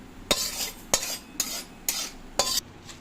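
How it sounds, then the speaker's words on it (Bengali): Cumin seeds dry-roasting in a pan are stirred in five sharp, evenly spaced scrapes over a faint, quiet crackle, close and clear with no talking. "জিরেটা ভাজা হয়ে গেল 1 মিনিটের মধ্যেই।"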